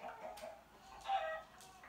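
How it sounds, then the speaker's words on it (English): A chicken in Minecraft gives short, soft clucks, two or three brief calls at moderate distance with no talk. "Chicken, give me an egg."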